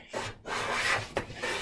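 A hand plane jointer shaves the edge of a 3/4 inch pine board in quick rasping strokes, close and scratchy, with brief pauses between passes and no talk.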